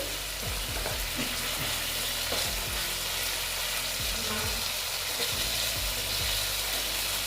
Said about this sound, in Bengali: আমি এইভাবে একটু নেড়ে চেড়ে নিচ্ছি